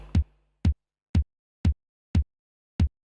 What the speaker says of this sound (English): typically you have the kick on each beat of the bar.